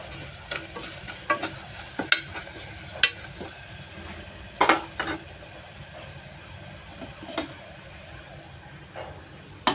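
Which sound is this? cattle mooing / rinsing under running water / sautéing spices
sautéing spices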